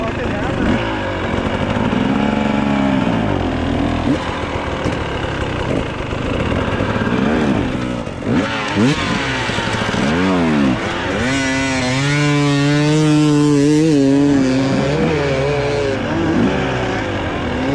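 An enduro dirt bike engine revs on the expert course of the Red Bull Outliers 2025 event, loud and close, its pitch repeatedly climbing and dropping in bursts of throttle, with a long sustained high rev near the end.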